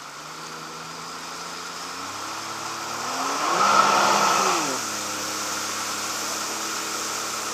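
Sea-Doo Wake 215 engine starting from dead cold: a low idle hum climbs into a brief revving swell, then settles back to a steady drone close by, with no talking.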